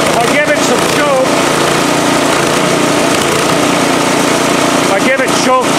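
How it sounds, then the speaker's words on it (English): A Husqvarna snow blower engine running lean surges unevenly, its note rising and falling, while someone talks over the steady engine noise. "I give it choke, the surging goes away. Take off the choke, it comes back."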